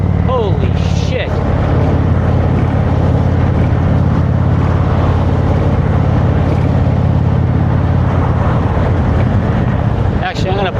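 An Indian Chieftain motorcycle with a Fuel Moto tune accelerating hard in sport mode, its loud, steady engine drone mixed with heavy wind rush for the whole stretch.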